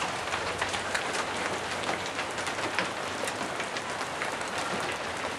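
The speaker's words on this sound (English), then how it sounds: "that is what a mild hailstorm looks like in America" A mild hailstorm in America as temperatures drop toward 50 degrees: a dense, constant clatter of hailstones striking surfaces, loud and steady with no talk.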